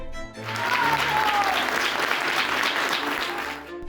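Applause for Supreme Court president Norma Piña, a dense burst of clapping that swells quickly, holds loud, then tapers off, with voices mixed in.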